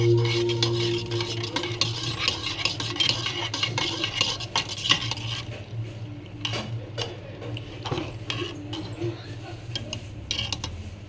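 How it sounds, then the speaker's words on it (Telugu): A spoon stirring jaggery water with cardamom and pepper powder in a glass, clinking and scraping against the sides in a steady, busy rhythm that continues for about eleven seconds before easing into scattered taps. "ఇవన్నీ వేసుకొని బాగా మిక్స్ చేసుకోవాలి."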